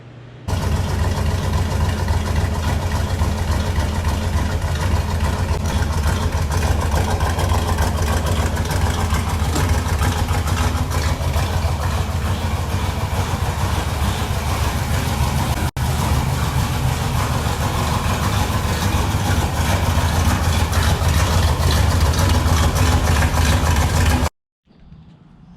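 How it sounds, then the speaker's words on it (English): A rebuilt truck engine runs and idles close to the microphone, a steady low rumble with a slight rise in revs partway through, continuous for about twenty-four seconds before stopping abruptly. "I'll post a clip here of it running and driving, just so you guys can kind of see what it sounded like."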